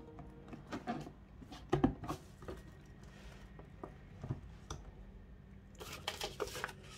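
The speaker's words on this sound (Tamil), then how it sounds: "இப்போ நாம் இந்த கேஸ் ஸ்டோவை அன்பாக்ஸ் பண்ணலாம்." A mini gas stove is unboxed by hand, with cardboard and paper rustling, soft taps and scraping handling noises in irregular bursts, close and fairly quiet, rising into a denser flurry of crinkling near the end.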